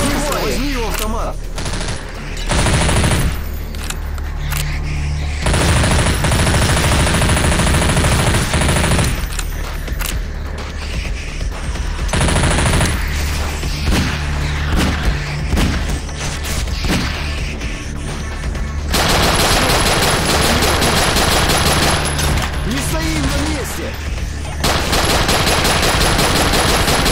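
Bursts of loud, rapid automatic rifle fire in the Nightmare House 2 Half-Life 2 mod, several long sustained volleys separated by short gaps, close and harsh, with voices speaking between the bursts.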